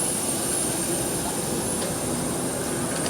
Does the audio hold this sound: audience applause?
no